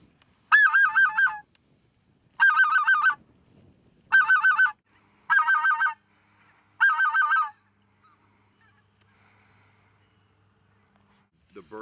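Geese honk loudly at close range in five rhythmic bursts of nasal calls, spaced about a second apart, then fall silent, heard during a goose hunt.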